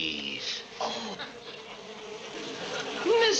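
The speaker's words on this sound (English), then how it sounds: "Listen to the buzzing of their merry little wings." A steady buzzing of bees hums throughout, with wingbeat swells rising and fading, and a brief squeaky tone near the end.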